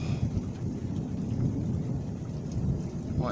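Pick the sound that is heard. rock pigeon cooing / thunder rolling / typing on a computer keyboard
thunder rolling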